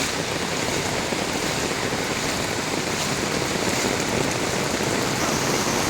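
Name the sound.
heavy rain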